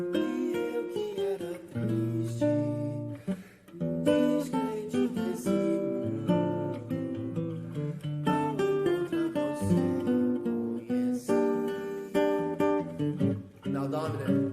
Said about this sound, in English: Even though the melody hits the minor third, you can play a major chord in there.